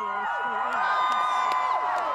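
A large crowd at a Greta Thunberg climate march with many school pupils, cheering and shouting in a dense, continuous roar with whoops and scattered claps, with voices mixed in throughout.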